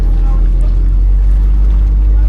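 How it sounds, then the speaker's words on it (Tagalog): A tuna fishing boat at sea gives off a loud, constant low engine drone with a rough rumble and wind noise. "Dito kami lahat ngayon sa bangka mga amigo, maliban sa iba."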